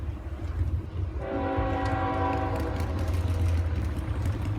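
A train rumbles past close by with a low heavy roar, joined by a sustained horn blast partway through.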